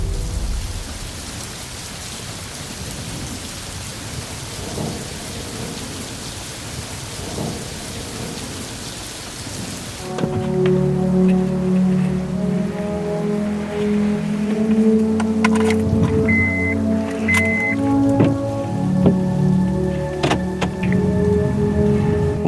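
Steady rain hisses for about ten seconds on a gloomy day. It then gives way to lower rumbling and scattered tonal noises that continue to the end.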